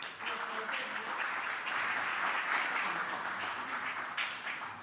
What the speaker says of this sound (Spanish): les solicito un efusivo aplauso para el señor León